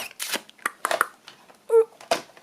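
Scissors cut paper for a large tag in a few quick, close crunching snips, with a brief squeak partway through.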